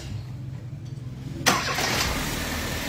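A Kia Rio with a stalling-in-drive fault cranks and fires up abruptly partway through, its engine settling into a loud, steady running roar after a quiet stretch of low idle-like hum.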